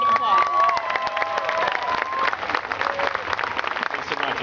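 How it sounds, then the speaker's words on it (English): A crowd at a Relay for Life charity event in Renton applauds and cheers, claps mixing with shouts and whoops, while a voice and a few tonal sounds run over the first half before the applause carries on alone. "Please, let's give these two a round of applause."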